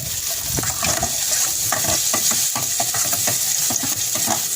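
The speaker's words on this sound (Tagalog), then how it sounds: "magpapainit tayo ng mantika. Gisahin natin yung garlic." A whole head of garlic cloves sautés in hot cooking oil, a bright constant sizzle layered with busy scraping and tapping of a spatula in the pan, near and steady throughout.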